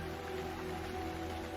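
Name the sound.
acid rain falling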